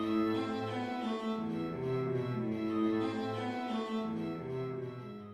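Classical guitar plays Giuliani's Etude no. 11, Op. 100, with a sustained melody line over a moving bass, steady and moderately soft, ringing alone without any talking.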